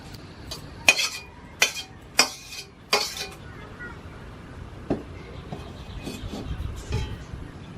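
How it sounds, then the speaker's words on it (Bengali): A ladle or spoon clinks and scrapes repeatedly against a metal pan as brinjal and hilsa fish curry is poured out, with sharp metallic knocks in a quick series, then softer scraping and faint kitchen clatter. "এবার ঝোলটা আমি ঢেলে নিচ্ছি।"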